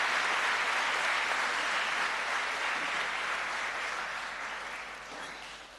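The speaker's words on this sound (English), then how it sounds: "excellent round of applause." An audience applauds steadily at a primary school gala evening, a dense wash of clapping that holds strong and then slowly thins and fades toward the end, with no voices over it.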